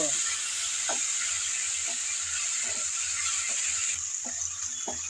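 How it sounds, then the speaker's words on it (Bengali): Onion with ginger and garlic paste sizzles steadily in a pan, with a constant hiss and periodic scraping stir strokes roughly every second, close and moderately quiet. "আদা আর রসুন পেঁয়াজের সাথে নেড়ে চেড়ে একটু ভেজে নেব"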